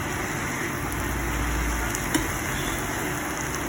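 Cabbage frying in a pan gives off a faint, steady sizzle with a soft stir or clink partway through and no talk.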